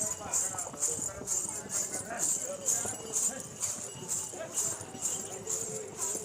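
Horse hooves clip-clop on the mountain path to Vaishno Devi. The hoofbeats are steady and evenly paced, with a bright jingling and murmuring voices in the background.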